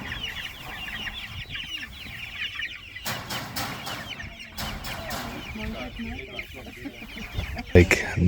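Chickens clucking on a South African farm near the Cradle of Humankind, a busy flock of overlapping clucks and chatter throughout, fairly close, with occasional louder knocks and some background voices.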